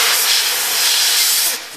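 Air hisses loudly and steadily out of a tire valve after the hose is removed, a close, sustained rush that tapers off near the end with no talk.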